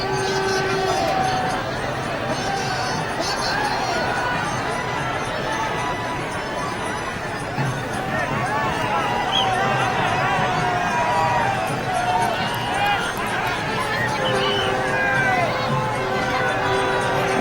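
Large street crowd at Amit Shah's road show in Purnia, a dense continuous hubbub of voices with shouted slogans rising from the throng, steady and fairly loud throughout.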